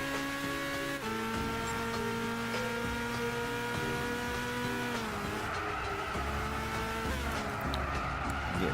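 A Toyota Starlet racing engine in Gran Turismo 6 drones at high revs, its steady whine stepping down at each gear shift and climbing again, loud and sustained, with no talk over it.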